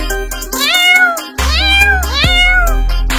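Cartoon kittens meowing, three loud, close, high-pitched meows in quick succession, each rising then falling, with no talking.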